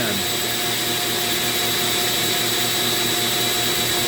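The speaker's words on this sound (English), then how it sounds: "at this point, you want your Dremel down to about 10" A Dremel rotary tool carves padauk wood, giving a steady, high whine with a constant tonal hum that holds evenly throughout at moderate loudness, with no speech over it.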